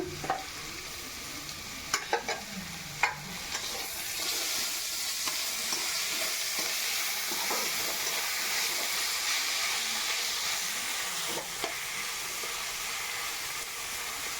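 Ginger and garlic frying with onions in a pan produce a loud, continuous sizzling hiss, with a few scraping stirs and clinks early on before the frying settles into a steady roar.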